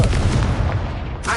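Confringo spell explosion in Hogwarts Legacy, a short, loud, booming blast with a rumbling low end that fades before a brief final burst.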